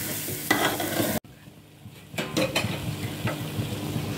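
Coconut, cumin and fennel sizzle in a pan for a fish curry, with close stirring scrapes and clinks over a steady frying hiss.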